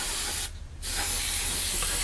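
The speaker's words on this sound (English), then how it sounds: "because we're spraying at quite a high PSI here" An airbrush at high pressure sprays paint onto a Hasegawa 1/48 Harrier GR7 model kit, a loud close steady hiss that cuts out briefly and resumes.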